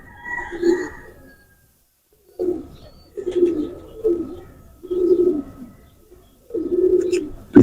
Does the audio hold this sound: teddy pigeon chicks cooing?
yes